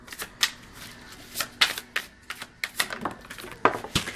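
A deck of Power of Surrender oracle cards is shuffled by hand in a quiet room, with crisp, irregular riffling bursts and light card taps up close.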